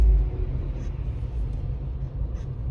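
A driving-school car pulling away and picking up speed before a gear change, a low steady engine rumble heard from inside the cabin, fairly loud and even with no distinct rev peaks, and no talking.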